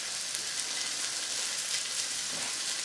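Sweet peppers sizzle in a hot frying pan for sweet and sour sauce, a steady close hiss of frying with small crackles and no talking.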